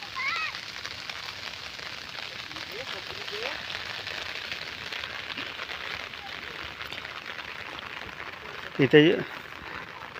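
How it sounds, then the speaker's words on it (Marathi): Rain falls in the hills around Gorai, producing a steady, even hiss on the surrounding surfaces throughout. A voice speaks briefly and faintly near the end. "पाऊस सुरू झाला आहे"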